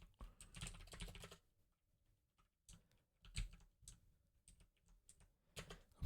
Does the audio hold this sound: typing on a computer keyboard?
yes